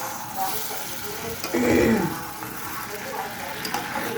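Potatoes with green chilli and turmeric frying in a pan, a steady close sizzle with a brief louder scrape of stirring partway through.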